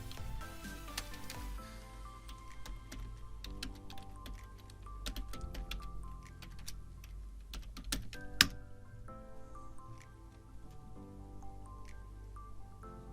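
Rapid typing on a computer keyboard, steady clusters of close, clear key clicks with a few louder strikes, and no talking over it.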